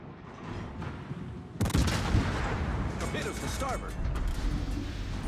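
Naval ship guns from a tier 8 cruiser in World of Warships fire in heavy booming salvos that break in suddenly and loudly over steady engine and sea rumble, with mechanical clanks and more shots following.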